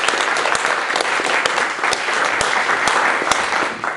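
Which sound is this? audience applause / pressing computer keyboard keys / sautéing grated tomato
audience applause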